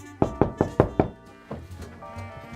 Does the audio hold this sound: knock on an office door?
yes